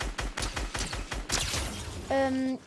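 Rapid bursts of gunfire rattle out in a Fortnite training session as bots approach, a quick run of repeated shots followed by an electronic game tone, moderately loud and close.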